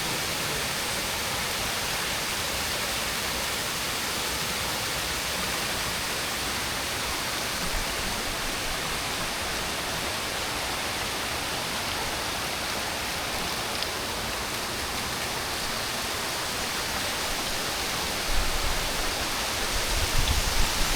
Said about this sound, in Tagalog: agos ng tubig